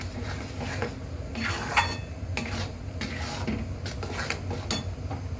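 Spiced food is stirred in a metal kadai with a spoon, giving light scraping and clinking taps at an irregular, unhurried pace. The sound is quiet and close, over a low steady background hum.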